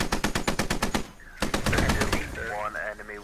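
Gunfire in the Squad video game: several rapid automatic bursts at the start, then a heavier blast with rumbling and mechanical noise continuing beneath.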